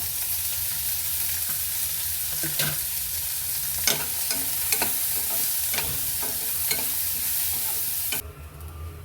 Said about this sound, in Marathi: त्यासाठी कांदा भाजून घेत आहे. तेल घालती आहे